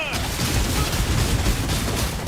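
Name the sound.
thrown bomb exploding in the air in a video game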